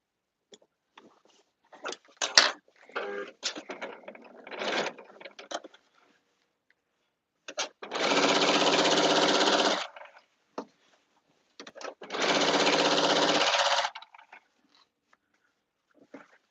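A home sewing machine stitches a caftan in two steady bursts of about two seconds each, close and even, with quiet handling clicks and pauses between runs.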